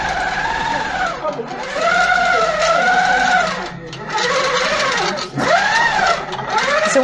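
Longarm quilting machine stitching across a quilt: a close, continuous motor whine that rises and falls in pitch as it runs, with a brief dip partway through.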